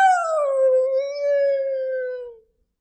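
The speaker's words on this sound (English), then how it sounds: "Coyote saw his handiwork and began to howl." A single long coyote howl, clear and tonal, slides gently downward in pitch for over two seconds, loud and close, then stops into silence.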